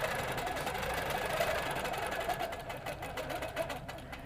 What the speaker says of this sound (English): Turn on my horizontal once again, bring up my thread, and then go ahead and stitch across.